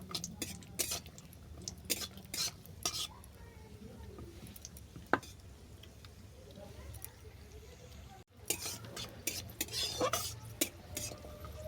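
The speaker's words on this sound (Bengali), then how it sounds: "কাজুটাকে আমি বাদামি করে ভেজে নেব" Cashews frying in ghee in a pan, stirred with a utensil: quiet, irregular scrapes and metallic clinks against the pan over a low, faint sizzle, with a brief dropout near the end.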